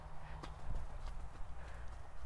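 Horse hooves beat out a soft, even clip-clop while a rider keeps the horse straight down the centre line of a riding arena. The footfalls sound rhythmic and fairly faint over a low background.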